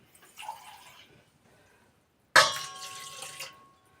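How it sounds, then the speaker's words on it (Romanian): Water is poured into beaten eggs for crepe batter in a short, faint splash, then a louder, brighter pour of about a second into the bowl. "Pun puțină apă,"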